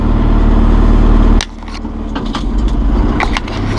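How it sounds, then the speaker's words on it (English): A 2011 John Deere 5101E utility tractor engine runs loud and close with a steady low drone, which drops sharply as it shifts gears, then keeps idling with some clunks and rattles. "we'll just shift down and do first, see all the gears are working"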